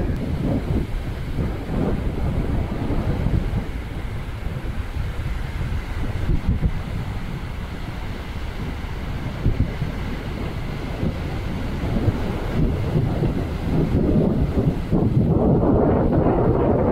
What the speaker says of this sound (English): Wind is not super consistent.